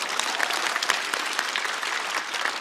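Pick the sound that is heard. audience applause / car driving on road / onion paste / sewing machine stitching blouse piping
audience applause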